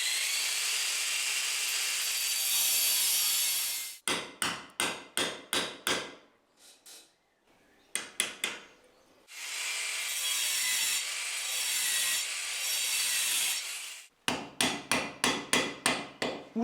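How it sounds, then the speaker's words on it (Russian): Black plastic plugs are hammered into gaps in a ceiling during building work, with loud sharp rapid hammer blows in quick bursts separated by stretches of steady grinding or sawing noise, close and without talk. "теперь будем стараться забивать наши эти черные штучки по уровню"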